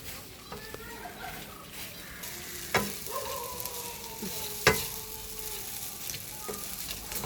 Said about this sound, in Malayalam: ഇതെല്ലാം കൂടെ ഒന്ന് നല്ല വൃത്തി ഒന്ന് മിക്സ് ചെയ്താൽ മതി